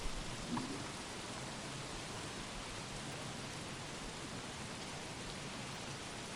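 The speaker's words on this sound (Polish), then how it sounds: "Ale ulewa." Heavy rain pours down in the video game Don't Starve Shipwrecked, a dense, even hiss of downpour that stays steady and fairly faint throughout with no talk.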